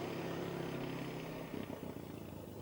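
A quad bike engine running on a Northern Ireland farm, a steady mid-pitched drone throughout that turns rougher and more uneven partway through.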